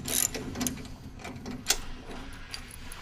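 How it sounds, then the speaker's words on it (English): A ratchet backs shaft bolts out of a 200mm wound energy recovery cassette, a close series of uneven mechanical clicks and ticks with a few sharper accents. "we'll remove the shaft bolts"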